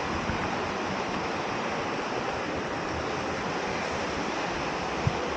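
Jogini waterfall near Manali pours with a constant, dense roar of rushing water, unbroken throughout with only a single faint knock near the end.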